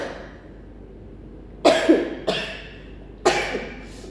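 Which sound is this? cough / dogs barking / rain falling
cough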